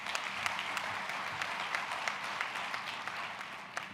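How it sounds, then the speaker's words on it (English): Distant, fairly faint applause from a large audience at a human settlements conference opening, a steady patter of clapping with a few sharper claps standing out. "You can applaud them."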